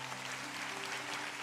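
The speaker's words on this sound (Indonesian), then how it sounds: "kasih tepuk tangan untuk Tuhan" A church congregation at a Sunday worship service claps together in a full, even burst of applause, with a low sustained tone or hum running beneath the clapping.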